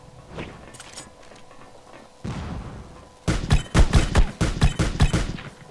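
Gunfire in the online shooter AQonline: a few scattered shots at first, then a thump, then loud, close, rapid bursts of automatic fire with no talking.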